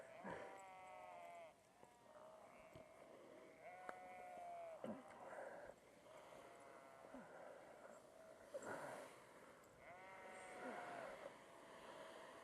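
Sheep bleat repeatedly across an open field, several wavering calls overlapping at different distances, some near and loud, others fainter behind.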